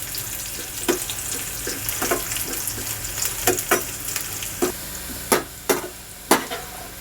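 Bitter gourd pieces shallow fry in oil for pickle, a constant close sizzle punctuated by sharp, regular spatula knocks and scrapes against the pan, with no speech.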